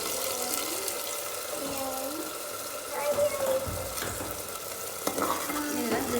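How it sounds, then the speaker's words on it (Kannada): Ground chutney spooned into a sizzling veg momo fry in a pan, giving a steady frying sizzle with stirring scrapes and a few soft wet splats as the paste goes in. "ಇದಕ್ಕೆ ಗ್ರೈಂಡ್ ಮಾಡ್ಕೊಂಡಿರೋವಂಥ ಚಟ್ನಿನ ಈ ಫ್ರೈಗೆ ಹಾಕೊಳ್ತಾ ಇದ್ದೀನಿ"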